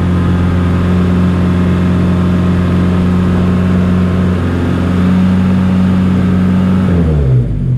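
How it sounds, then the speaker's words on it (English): A car engine idles steadily with a low, even hum, then is switched off near the end and the sound winds down quickly to quiet. "I'll turn off the car real quick."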